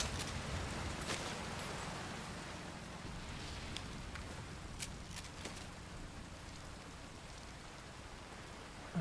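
Steady rain falls throughout a scene in Metal Gear Solid V: Ground Zeroes, a constant hiss of drops on surfaces with a few sharper splashes, alone and without talk.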